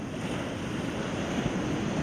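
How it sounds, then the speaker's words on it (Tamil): Sea waves roll in a steady, broad wash of surf mixed with wind rumble, loud and continuous throughout, with no voices. "இவ்வளவு பெரிய கடல்"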